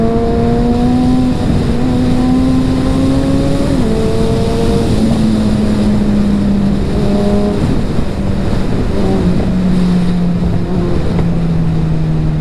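A Suzuki Hayabusa motorcycle being ridden, its engine loud and close with repeated gear-change steps in pitch and crackling exhaust pops scattered through a continuous roar.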